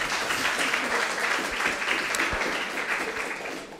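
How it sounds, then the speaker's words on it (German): An audience at a literary reading event gives steady, moderate applause, a continuous wash of many hands clapping at a middle distance for several seconds. "Mal einen Applaus dafür, bitte."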